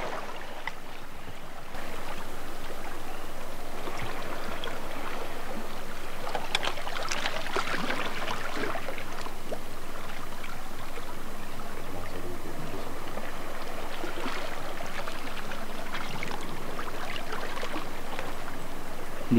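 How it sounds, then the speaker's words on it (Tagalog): Gentle sea waves wash onto a beach by a seaside motorcycle campsite, soft swishes and trickles rising and fading in slow surges at a quiet, moderate distance. "Hindi malakas yung alon eh"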